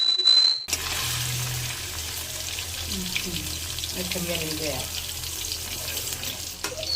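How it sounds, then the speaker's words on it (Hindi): Paneer lightly frying in oil and being stirred, a steady close sizzle with scraping stir sounds after a short sharp noise at the start; a voice is heard faintly underneath. "पनीर जो है हल्का सा फ्राई हो गया था"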